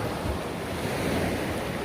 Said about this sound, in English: Man, the sea rough.